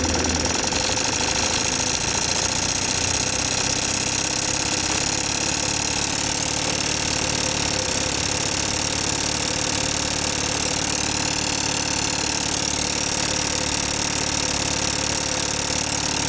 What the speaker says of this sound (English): Let's turn up the engine a bit.